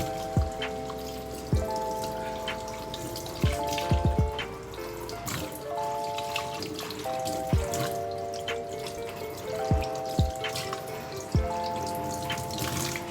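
Warm water runs from a tap over hands being rinsed, with steady splashing and repeated drips and plops at irregular intervals, close and moderately loud throughout.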